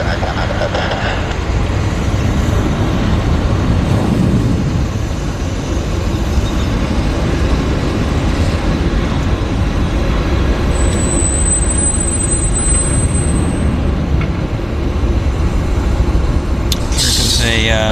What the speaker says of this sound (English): Here comes a CRJ.